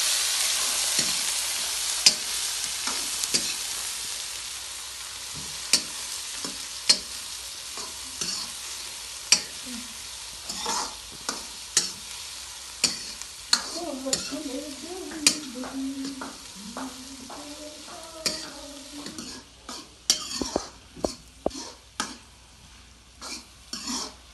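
Onions fry in a pan for a shahi paneer, with a steady sizzle under repeated scraping, stirring clicks and utensil knocks that grow busier toward the end; a voice briefly murmurs midway.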